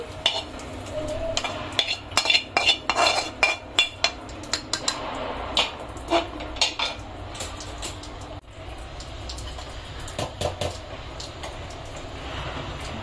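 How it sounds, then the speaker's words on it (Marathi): Kolhapuri tambda mutton rassa with fried dry masala being stirred in a pan, a metal spoon clinking and scraping against the pan in irregular bursts, fairly close, with a steady low background hum. "तर बघा, आपला जो रस्सा आहे तो बघा याच्यात मसाला असा मिक्स करून घ्यायचा"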